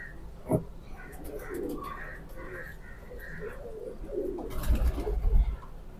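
A healthy pigeon held in a hand coos and calls in soft repeated bursts close by, with some rustling and a louder flutter or handling noise near the end; no clear speech.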